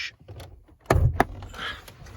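Bonnet release catch pulled inside a 2014 Range Rover Evoque gives a sharp mechanical clunk followed by a second knock, close and fairly loud, with quieter cabin handling noises around it.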